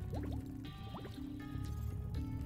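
Underwater ambience in the video game Spyro Reignited (Ripto's Rage): bubbly, gurgling liquid sounds with rising blips and drips over a steady murky drone, with no voices.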